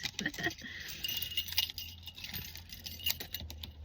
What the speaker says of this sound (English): I gotta grab my keys